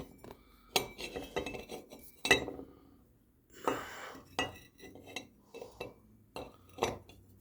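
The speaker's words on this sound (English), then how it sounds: "we put the screws back in there" Metal screws go back into the hub plate of a Husqvarna HU775BBC self-propelled walk-behind lawnmower with a blade brake clutch: sharp clinks and taps of small metal parts, irregular and close, with quiet gaps between.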